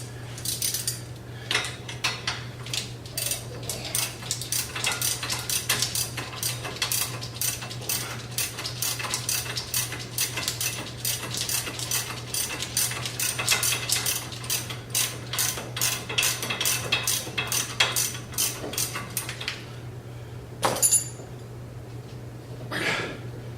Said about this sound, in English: Okay, it is time for a socket wrench.